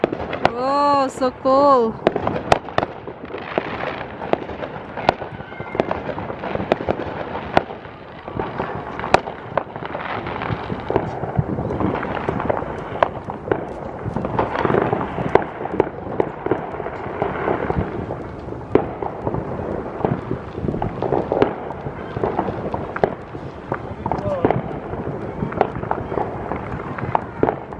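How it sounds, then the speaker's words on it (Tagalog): Fourth of July fireworks pop and crackle in rapid, irregular bursts throughout, with sharp bangs and sustained crackling from a neighborhood display, while people talk and exclaim over the noise. "See the fireworks, Ajay?"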